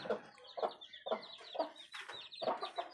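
Free-range village chickens in a coop cluck in quick repeated bursts, several birds overlapping at close range with no talk.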